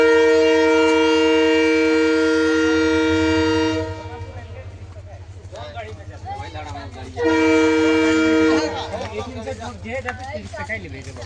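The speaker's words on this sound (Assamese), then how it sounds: "ট্ৰেইন আহি পালে।" An arriving train sounds its horn in two long, loud, tonal blasts separated by a pause, with rumbling rail noise and people talking in between.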